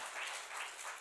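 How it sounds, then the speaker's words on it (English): A church congregation claps during a Sunday morning worship service, a brief faint wash of hand clapping from across the sanctuary. "Y'all clap your hands for that."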